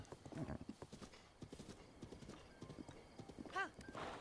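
Horse hooves clip-clop in a quick galloping rhythm in the video game The Legend of Zelda: Breath of the Wild, ending with a whinny, with some speech mixed in.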